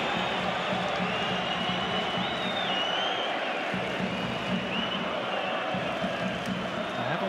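A-League football stadium crowd at Melbourne Victory versus Adelaide United, cheering after a goal as a dense, steady roar that fills the whole stretch, with a commentator talking over it.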